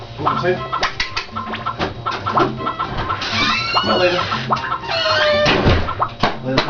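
Chickens cluck and squawk in the farm game Harvest Moon 64, with repeated short calls over a busy game soundtrack and other bird-like chirps.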